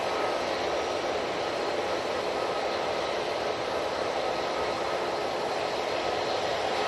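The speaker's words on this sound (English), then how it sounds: "787-9 Dreamliner coming in from Stockholm" A TUI Boeing 787-9 Dreamliner arriving from Stockholm lands at Manchester Airport, its steady broad engine roar and rushing air holding loud and constant from start to finish with no break.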